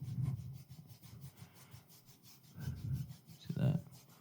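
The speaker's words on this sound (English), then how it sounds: "touching the beard and stuff like that" A hand rubbing a beard close to a microphone produces soft rasping, scratchy strokes in irregular bursts, quiet and intimate, with a few stronger rubs near the end.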